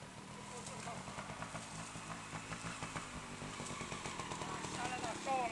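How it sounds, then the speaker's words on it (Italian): A trial motorcycle climbs a slope on its own, its engine chugging in a rhythmic, pulsing putter at moderate distance while people talk nearby. "Sale da solo questa moto, guarda. Da solo sale."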